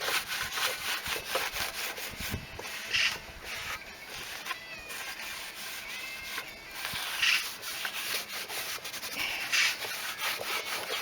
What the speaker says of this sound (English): I'll just give it a nice buff over now, a bit of a polish